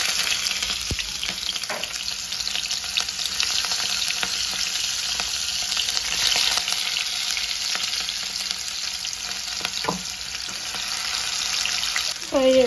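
Chopped onions sizzle and fry steadily in oil in a pan while being stirred for an ivy gourd curry, with occasional scrapes and clinks throughout and a brief voice near the end.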